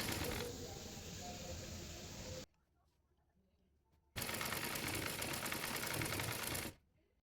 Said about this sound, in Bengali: এরপর নিচে মুড়িয়ে সেলাই করে নেব।